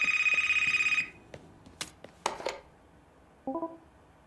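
A telephone rings in the horror game Decarnation with a steady electronic trill that cuts off after about a second, followed by a few sharp clicks and knocks and a brief tonal chime.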